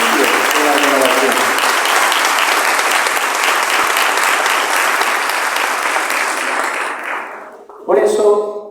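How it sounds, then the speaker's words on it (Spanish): Loud, dense applause from a church congregation at a healing and deliverance gathering fills most of the span, fading near the end before a voice speaks briefly. "yo quiero que le demos un fuerte aplauso a todos los familiares de estos hermanos"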